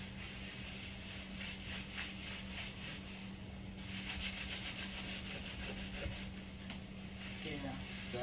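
A cloth rubbing back and forth across a window sill, a steady, continuous scrubbing swish with a rhythmic texture, quiet and close over faint background hum.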